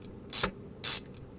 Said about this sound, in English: We're going to go ahead and bolt that down.